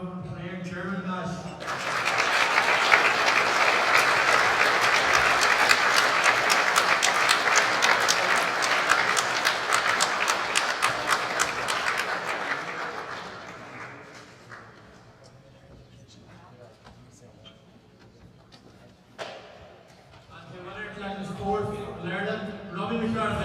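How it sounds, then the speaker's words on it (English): A crowd applauds loudly and steadily at the presentation after the 2019 All-Ireland 4-Wall men's handball final, the clapping swelling for about twelve seconds before fading under a speaker's voice. "give a huge round of applause for Robbie, Clare, German Nash."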